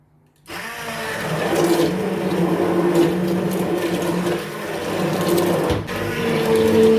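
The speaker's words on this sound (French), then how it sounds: "Une fois notre légume est prêt, on va les mixer." A kitchen blender purees cooked vegetables for a homemade vegetable soup, a steady loud whirring drone that starts abruptly after a brief silence and runs continuously, dipping slightly for a moment before resuming.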